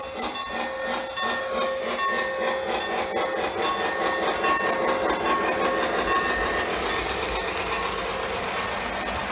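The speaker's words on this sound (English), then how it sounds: "It's a long train around the bend, over the bridge." A long train rolls around a bend and over a bridge, its wheels clattering steadily on the rails with metallic squealing, loud and continuous throughout with no talk.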